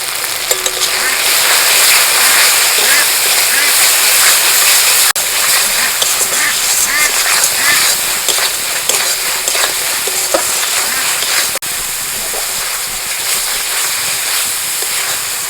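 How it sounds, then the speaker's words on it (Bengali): Spices cooking down with tomato puree, salt and turmeric in a pan give a steady, close sizzle and frying hiss with faint stirring scrapes throughout. "মশলা কষানো হয়ে গেছে"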